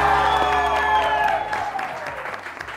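A studio audience claps in a sustained round of applause that is loud at the start and then thins and fades.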